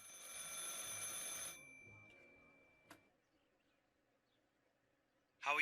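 A telephone rings in the video game Martha is Dead, a steady bell-like trill lasting about a second and a half, followed by a single short ding and then quiet before a sharp burst at the end.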